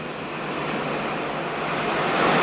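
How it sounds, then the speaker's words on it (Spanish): Ocean waves roll toward the shore in a steady, broad wash of surf that swells slightly louder over a couple of seconds, heard alone without any voices. "todas las olas disminuyen su velocidad a medida que se acercan a tierra"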